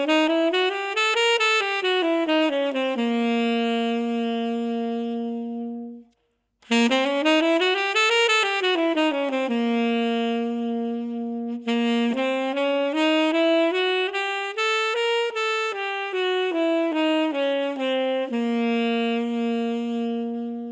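A C whole-half diminished scale played on a melodic instrument, clear sustained notes stepping up and down in even runs, repeated three times with a brief pause after the first pass, no talking.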